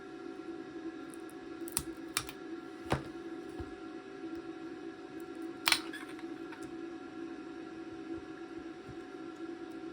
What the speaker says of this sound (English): So I'll just bring in a little screwdriver here, just see if I can, yeah, it's got a bit of adhesive there.